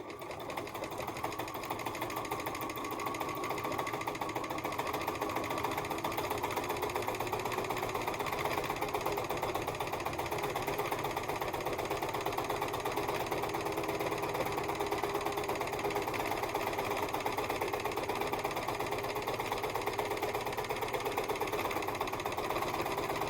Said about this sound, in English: this is real-time sewing